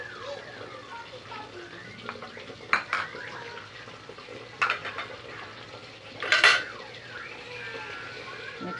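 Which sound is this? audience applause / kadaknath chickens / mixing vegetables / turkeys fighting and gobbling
mixing vegetables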